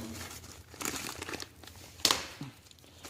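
Plastic packaging for a replacement part for an Estate by Murray dual-stage snow blower is torn open, giving soft crinkling and rustling with one sharper crackling rip near the end.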